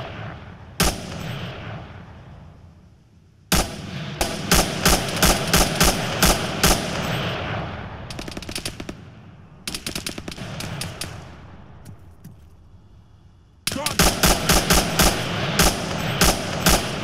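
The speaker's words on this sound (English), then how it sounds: "Fire at that soldier!" Battlefield gunfire in the military shooter game ArmA 3, with dense bursts of rapid rifle and machine-gun shots, sharp single cracks and short pauses between volleys, loud and close.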